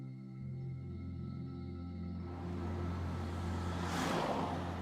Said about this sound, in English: So we're currently driving to the station right now